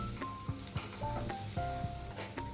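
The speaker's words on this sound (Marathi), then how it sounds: "हे पुन्हा आपल्याला छान मिक्स करून छान परतवून घ्यायचे आहे" Masala stirred and sautéed in a pan for a Mumbai-style masala sandwich filling, a steady close sizzle with repeated scraping strokes of the spoon against the pan.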